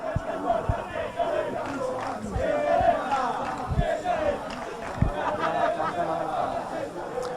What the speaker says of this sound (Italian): Provano anche a farsi sentire i tifosi organizzati del Tiesi